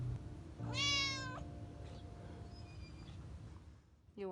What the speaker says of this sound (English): it is just Medora and her cat Moe loving social distance